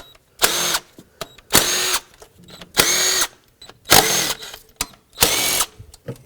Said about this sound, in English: The next thing I want to do is remove all the bolts and nuts that hold this intake down at the front here.